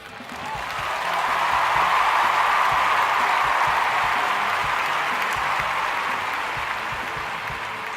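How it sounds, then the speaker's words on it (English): Applause fills a concert hall after a performance in the visual novel Everlasting Summer, a dense, steady wash of clapping that swells in within the first second and holds evenly through the end without fading. "the concert hall burst with applause"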